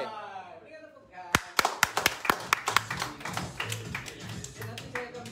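A small audience at a corporate brand event gives scattered handclaps that start loud and sharp, then thin into softer, uneven clapping; a voice is heard briefly before the claps begin.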